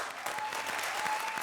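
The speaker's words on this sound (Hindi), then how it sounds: "जोरदार तालियां राजीव और सलोनी के लिए।" Steady applause from a comedy TV show studio audience, dense clapping that holds at an even level throughout.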